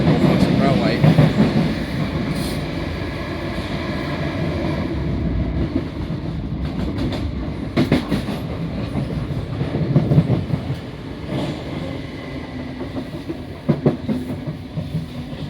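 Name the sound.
SWR train motors running, similar to 319012 London Overground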